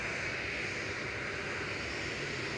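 A Singapore Airlines jet taxiing out at Manchester Airport gives a steady, loud engine roar and broadband rumble with a whine, constant over the whole stretch, with no talk.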